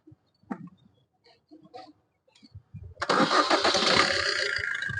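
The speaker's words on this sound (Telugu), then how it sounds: "సింగిల్ సెల్ఫ్ తోటి స్టార్ట్ అవ్వడం జరుగుతుంది బండి. ఇంజన్ సౌండ్ చూసుకోవచ్చు." A 2016 Maruti Suzuki Ciaz ZDI+ diesel is push-button started: a few quiet clicks and knocks, a brief crank, then the engine catches and settles into a loud, steady close idle.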